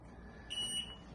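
A short electronic beep pair from a kitchen timer rings out over a low background hum, high-pitched and brief, as water heats for boiling eggs.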